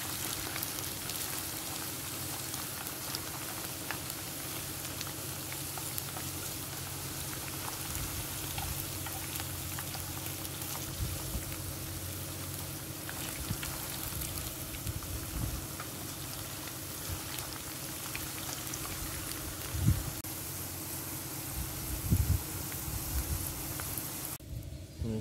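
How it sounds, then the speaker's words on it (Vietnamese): Lemongrass frying golden and crisp in a pan for a rustic Vietnamese frog dish, a steady crackling sizzle that runs throughout at moderate level with a few louder pops near the end. "Chiên xả vàng rồi nè các bạn ơi, luôn vàng rồi nè, giòn rồi đó."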